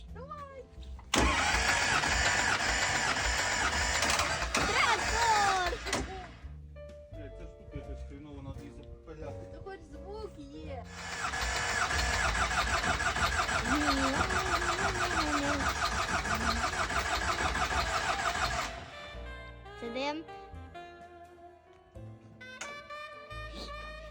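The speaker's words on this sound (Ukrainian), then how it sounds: "Ну і пробуємо заводити трактор." A T-40 tractor engine is cranked over on a first start attempt after restoration, giving two long, loud stretches of rough engine roar separated by a quieter pause, with people talking around it.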